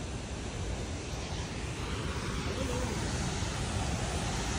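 Athirapilli waterfall with water flowing heavily, a dense, loud, constant roar of rushing water filling the scene without a break.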